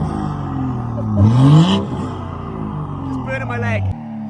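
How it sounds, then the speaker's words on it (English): A tuned BMW M240i engine revs up in a quick rising burst, then settles back to a steady rumble, with people talking over it. "Now it's time for a couple revs."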